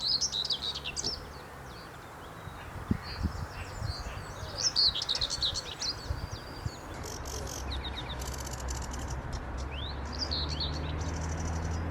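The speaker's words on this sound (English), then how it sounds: "Whitethroat over there." A whitethroat sings in fragmented scratchy bursts from a few metres off, outdoors in warbler-rich scrub, with other birds chirping nearby over a steady low background rumble.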